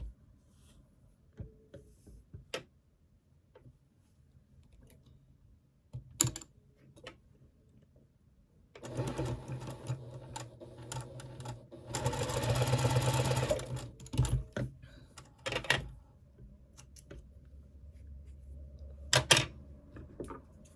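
Sewing machine stitching quilt pieces corner to corner for a daisy quilt, short bursts of rapid mechanical whirring and ticking separated by quiet pauses, the longest run near the middle, close up with no talk.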